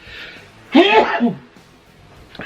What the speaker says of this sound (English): I'm going to sneeze very soon.